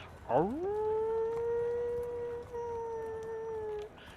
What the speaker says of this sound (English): There is a howl of every wolf within probably 10 miles.